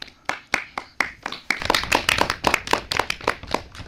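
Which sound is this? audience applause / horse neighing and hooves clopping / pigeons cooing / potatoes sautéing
audience applause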